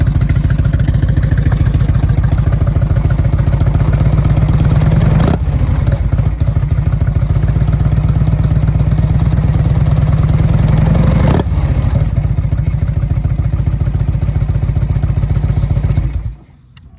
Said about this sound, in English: this is what the bike sounds like